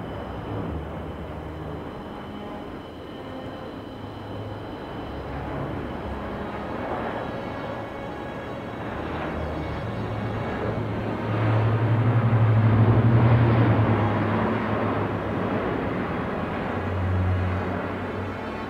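An Airbus A400M Atlas military transport plane in a flying display at the 2019 Paris Air Show, its turboprop roar and low rumble building to a loud peak near the middle, then easing.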